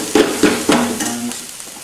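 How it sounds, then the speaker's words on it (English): A thick vegetable curry paste sizzles in a pan as a spoon stirs it, three quick scraping strokes over a steady frying hiss, close and fairly loud. "while that's frying off a bit"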